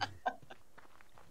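A chicken in the survival game Subsistence lets out a couple of short clucks close by, the first two loudest and the rest fading into faint, scattered calls over quiet background.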